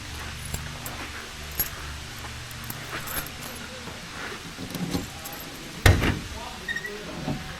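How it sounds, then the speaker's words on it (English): Keys jangle around a 1972 Ford Mustang with a 351 engine, light scattered metallic clinks spread across the moment, with one sharper knock near the end and no talk. "Let me see if I can reach the keys."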